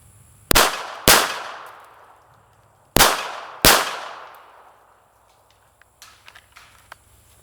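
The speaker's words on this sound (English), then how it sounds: "draw and fire 2 shots, weak hand only, swap hands and fire 2 more shots." Handgun shots fired at a Navy qualification range, four loud, sharp reports in two pairs with echoing decay, followed by faint clicks and handling noises.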